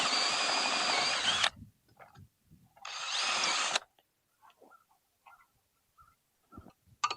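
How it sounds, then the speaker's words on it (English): A power drill pre-drills holes for large bolts while a Ghost Controls gate opener is installed, with two loud sustained bursts of whining motor and bit noise separated by quiet gaps, followed by light handling clicks and taps. "These bolts are so big that they require some pre-drilling."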